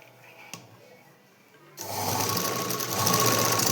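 A sewing machine sits quiet with a small click, then starts stitching, its loud, steady, close whirring run holding to the end without any talk.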